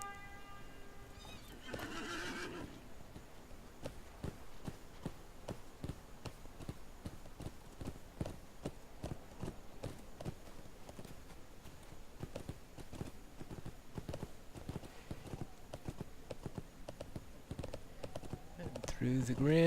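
Horse hooves clip-clop steadily through snowy terrain in the Lord of the Rings Online region of Wildermore, with a neigh near the start and game ambience throughout.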